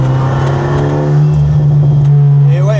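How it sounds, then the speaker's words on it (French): A deep, steady exhaust drone hums and resonates inside the cabin of an Alpine A110 Schirmer GT sports car, loud and continuous, with someone talking over it. "l'échappement qui résonne dans l'habitacle"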